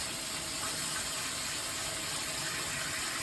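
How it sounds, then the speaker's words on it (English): Cold water pours steadily over blanched asparagus in a wok, a continuous close rushing splash with no pauses and no voices. "of course I have to pour cold water on it right away"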